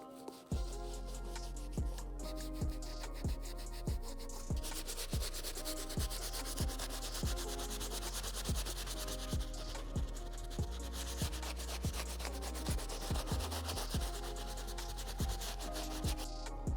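A medium bristle brush scrubs and buffs scuffs off worn Hoka sneakers in steady rhythmic strokes about twice a second, close and continuous with no talking.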